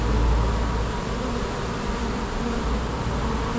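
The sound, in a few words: honeybees flying during removal from bin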